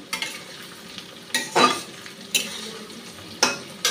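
Marinated chicken and whole garlic cloves fry in a pan, a soft continuous sizzle broken by a few louder bursts of stirring and scraping at irregular intervals, close by with no voices.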